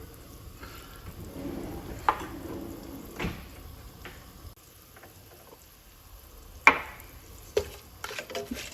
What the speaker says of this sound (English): All the raw garam masalas to start with, then fry a little bit.